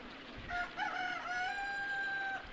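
A rooster in Ōkami HD crows in several drawn-out, wavering calls over about two seconds, clear and moderately close with no talk over it.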